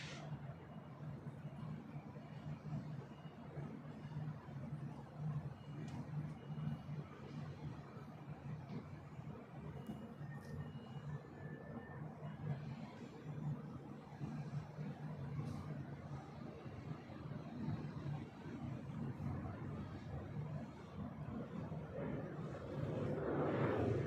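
An Alaska Airlines Boeing 737-900ER arrives at LAX as a faint, distant, continuous jet rumble that swells slightly toward the end, with no talking.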